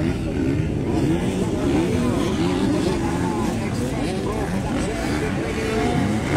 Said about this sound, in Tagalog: So lamang na lamang lang si Laila tungod sa 250cc ang iyang motor